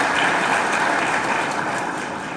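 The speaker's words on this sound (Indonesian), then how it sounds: "Tepuk tangan buat kawan-kawan sekalian ya." An audience at a seminar on human resources and business management claps together in a dense, continuous burst that tapers slightly at the end.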